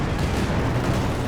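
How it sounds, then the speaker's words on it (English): A close range mortar strike explodes in the World War II strategy game Company of Heroes 2, a loud, dense blast of rumbling low noise that fills the whole short moment without letup. "Nasty close range mortar strike."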